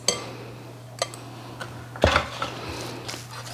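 Spaghetti squash strands are mixed in a bowl for a keto lasagna, with scattered light clinks and taps of a utensil against the bowl, one louder knock midway, over a low steady background hum.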